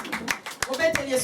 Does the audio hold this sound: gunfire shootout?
no